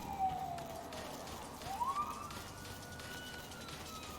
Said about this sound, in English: Except for that police siren.